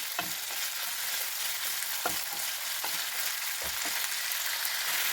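Small chicken pieces fry in a hot pan, a steady dense sizzle broken by several brief stirring scrapes, close and fairly loud with no talking.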